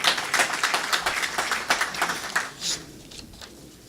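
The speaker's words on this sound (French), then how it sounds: "Applaudissons Madame Leila Liadini." An audience at a literary closing-night tribute applauds, bursts of hand clapping that dense early and then thin out and fade over a few seconds.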